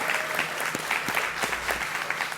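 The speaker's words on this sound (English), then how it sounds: "Round of applause, please, for Amy" Audience applause at a human services panel event, steady clapping from a room crowd throughout, fairly loud and even.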